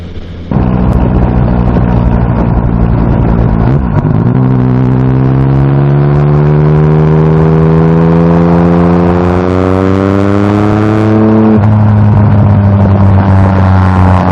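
A motorcycle accelerates hard on a dry country road, its loud engine note climbing steadily through the revs, dipping at a gear change and rising again, then settling with a final shift near the end.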